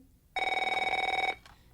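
A telephone bell rings in one sustained burst of about a second, a fast, even trill that cuts off abruptly, with a faint second chirp just after in an otherwise quiet room.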